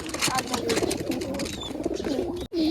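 Pigeons cooing nearby in soft, repeated throaty calls, with other birds and background noise mixed in and a brief break near the end.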